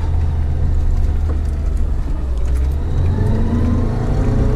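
A Lada Niva engine revs steadily and loudly with a heavy low rumble throughout, no pause, on a car whose rear axle drive is not engaging.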